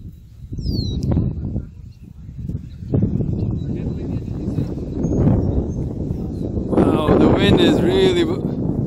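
Wind blows outdoors at an RC plane flying field, rumbling and buffeting the microphone steadily, with a person talking through it and a high bird-like chirp near the end.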